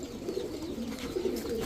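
Male high-flyer pigeons in a market loft coo in low, repeated rolling calls, several birds close by and overlapping, with no talk.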